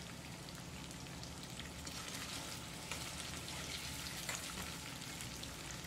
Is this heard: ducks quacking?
no